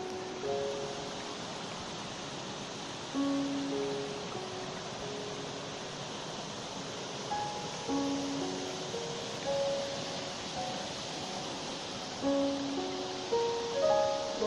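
A waterfall swollen by spring snowmelt rushes downward in a continuous, even roar of broadband water noise, with faint intermittent chirps over it and no talking.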